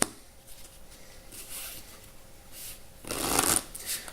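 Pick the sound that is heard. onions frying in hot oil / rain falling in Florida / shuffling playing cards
shuffling playing cards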